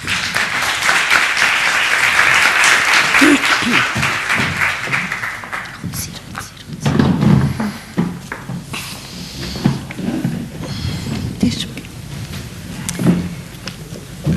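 A burst of applause from a group at a public class presentation, loud at first and then thinning into scattered claps as voices begin talking over it.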